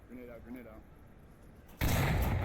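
In the VR shooter Onward, a sharp, loud grenade blast bursts in suddenly near the end, following a quieter stretch of talk and faint background game sounds.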